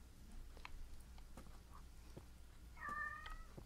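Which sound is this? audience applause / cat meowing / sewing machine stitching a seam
cat meowing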